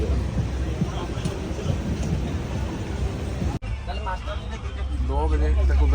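A moving train on a North East journey rumbles loudly inside a crowded general compartment, a constant heavy rattle with voices talking over it.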